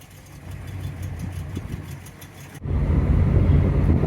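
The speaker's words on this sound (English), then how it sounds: "Well, we're going out for a spin in Robert's car." A classic car engine idles with a low, rough rumble, then surges louder and fuller partway through as it revs up and pulls away, with no talk over it.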